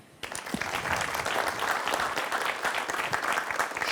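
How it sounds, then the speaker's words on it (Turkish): A studio audience at a Turkish talk show breaks into dense, sustained applause that starts abruptly after a brief quiet moment and holds steady and full throughout, with no voices over it. "Buna ben alkış isterim"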